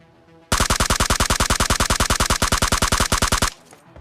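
Rapid automatic gunfire from a suppressed weapon in the mobile battle royale game PUBG Mobile, a loud steady burst of about thirty evenly spaced shots lasting three seconds, alone with no talk.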